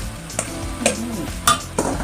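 A spatula scrapes and stirs through egg fried rice in a pan, with a steady sizzle and a few sharp clinks of metal.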